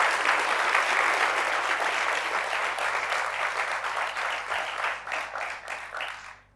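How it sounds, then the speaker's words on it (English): A conference audience breaks into a sustained round of applause, dense and steady at first, then thinning into scattered claps before fading out. "I think we should give them a warm round of applause"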